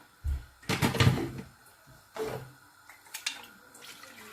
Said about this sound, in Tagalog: Lagyan ko ng konting tubig yung lata